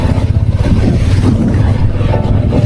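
Motorbike riding along a road from Siliguri toward Sillery Gaon in Sikkim, a loud, close engine drone with buffeting wind noise on the microphone, steady and continuous with no voices.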